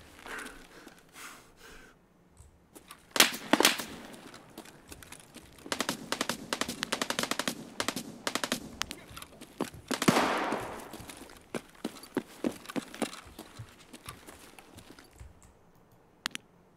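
Gunfire in the video game Escape from Tarkov comes as scattered sharp bursts and rapid strings of shots, with quiet gaps between clusters, over a low background.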